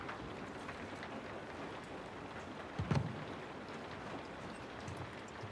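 Steady rain falls in the Uncharted: The Lost Legacy game world, a constant soft hiss with a brief louder thump of some nearby object near the three-second mark; no voices.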